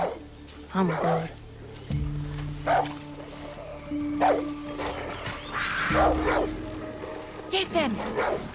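A dog in the Far Cry 6 video game barks a few times amid a busy game soundtrack of music and effects, with voices talking over it.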